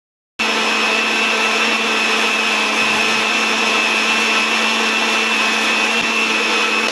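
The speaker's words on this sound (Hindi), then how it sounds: "जूसर मशीन को बंद करेंगे और इसको अच्छी तरह से हम लोग ग्राइंड कर लेंगे।" Juicer machine grinding peaches at home, a loud steady motor whir with a high whine that starts abruptly and runs continuously for several seconds without a break.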